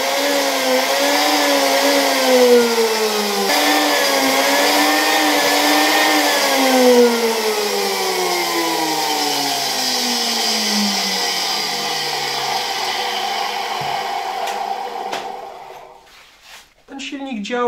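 A 1965 Gamma II vacuum cleaner motor from Kętrzyn, held on a workbench, runs with a loud steady whine that sags slowly in pitch as it coasts down, before rustling handling noises at the end.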